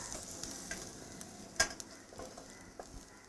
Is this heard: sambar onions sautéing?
yes